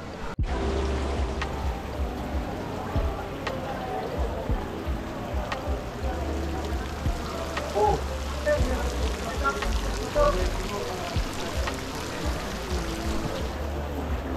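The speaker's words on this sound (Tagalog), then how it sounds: "Unfortunately, it's raining hard." Hard rain hisses steadily on surfaces at a golf course, a continuous close wash of noise that drowns out other sounds.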